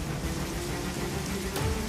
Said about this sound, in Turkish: Yağmurun hiç durmadığını hayal et.